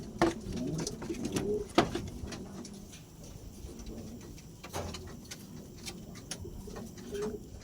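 Racing pigeons coo softly at a loft landing board, with low repeated coos and light fluttering and shuffling close by, fairly quiet with no talk.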